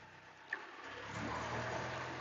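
A small aircraft engine runs up before takeoff, a steady droning roar that swells in loudness about halfway through, heard close, with no talk.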